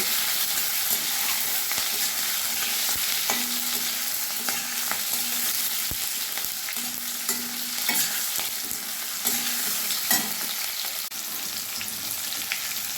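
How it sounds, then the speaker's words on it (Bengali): Halved medium potatoes and a little onion fry in oil in a pan, with a steady close sizzle and occasional scraping and stirring strokes throughout. "দুটো একটা মাঝারি সাইজের আলু আমি দুআধখানা করে কেটে নিয়েছি, আর অল্প একটু পেঁয়াজ। এগুলো আমি ভেজে নেব।"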